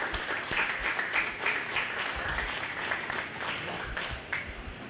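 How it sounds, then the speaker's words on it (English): Steady audience applause fills a county fair 4-H/FFA goat show arena, a dense, continuous patter of many hands clapping at moderate distance without a break. "Let's give them both a nice round of applause."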